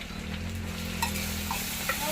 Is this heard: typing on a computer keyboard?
no